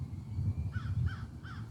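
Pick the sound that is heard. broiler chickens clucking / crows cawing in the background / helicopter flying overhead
crows cawing in the background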